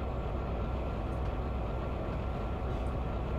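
A train runs in the Trainz Railroad Simulator 2019 video game, producing a steady low engine rumble and rolling drone that holds constant throughout without any talk.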